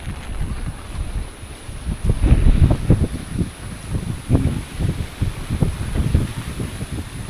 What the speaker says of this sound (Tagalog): Humahambalos na naman yung hangin, oh. May pabugso-bugsong hangin pa rin.